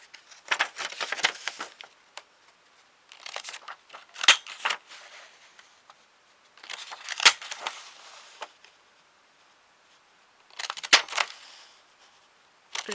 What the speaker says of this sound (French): Et je vais découper la bordure.